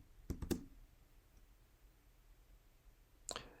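Two quick key presses on a computer keyboard, a shift-enter combination entered in Mathematica, followed by a short pause and one more faint click, close and quiet in a still room.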